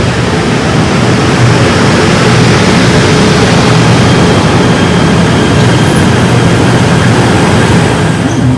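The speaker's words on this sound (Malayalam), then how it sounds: "ഇതാണ് വണ്ടി അടിപൊളി ട്രെയിനാണ് ഇത് കമ്മ്യൂട്ടോ ട്രെയിനാണ്" A commuter train in Malaysia runs with a loud, steady rumble and broad rushing noise that holds unbroken throughout.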